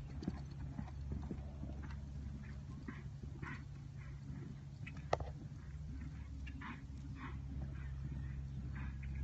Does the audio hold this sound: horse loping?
yes